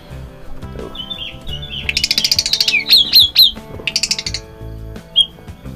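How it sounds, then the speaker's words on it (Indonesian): A pet starling chatters under a cloth in an attic, close and loud, with bursts of rapid high chirps, whistles and squawks coming in clusters over a few seconds. "Tadi saya tutupi si jalak dengan kain ini, dan dia bawel sekali."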